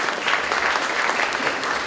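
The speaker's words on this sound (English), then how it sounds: "They do deserve a round of applause." A short burst of steady applause from an audience at a senior center, dense clapping at an even level with no voices.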